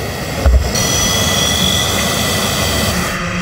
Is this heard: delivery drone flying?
yes